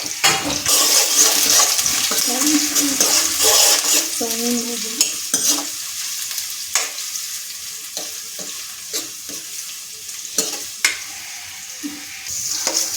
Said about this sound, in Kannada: ಈರುಳ್ಳಿ ಹಾಕಿ ಸ್ವಲ್ಪ ಫ್ರೈ ಮಾಡ್ಕೊಬೇಕು one two to three minutes ಮಾಡ್ಕೋತಾರೆ